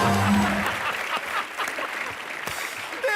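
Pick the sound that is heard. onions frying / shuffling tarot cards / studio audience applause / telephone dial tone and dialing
studio audience applause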